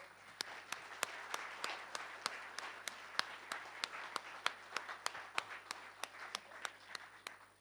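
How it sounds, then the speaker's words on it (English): Sparse, faint applause for a conference panel: individual claps stand out in a fairly regular, unhurried rhythm, like a small group clapping at a distance in a quiet hall. "A round of applause for our panel"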